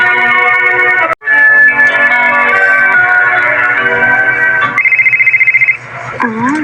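A mobile phone rings indoors in a living room, a loud, close electronic melodic ringtone with sustained tonal notes, then a rapid pulsing tone and a warbling sweep, with faint background voices.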